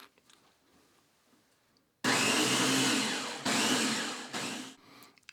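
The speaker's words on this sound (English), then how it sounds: "we're going to blend this together in the food processor to try and break up the bigger granules of the almond flour" A food processor blends almond flour for macarons. After a quiet start it switches on abruptly with a loud, close whirring roar, pulses in three bursts with short breaks, then stops.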